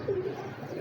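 A single short, soft coo from a pedigree pigeon, heard close up and alone.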